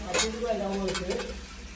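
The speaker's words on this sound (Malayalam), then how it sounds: "ഇനി മത്തി വറക്കട്ടെ. കുറച്ചുകൂടി പൊരിക്കാനുണ്ട്." Sardines frying in a pan at home, a steady close sizzle with a few stirring scrapes over a short stretch.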